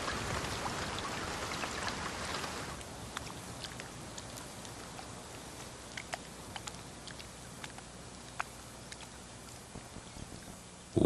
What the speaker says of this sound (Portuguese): é em Barafu que os leões têm sua primeira amostra de chuva